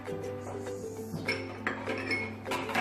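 Flour, almond powder and baking powder are stirred in a mixing bowl, with light clinks and scrapes of a utensil against the bowl. The strokes are irregular, close and moderately soft.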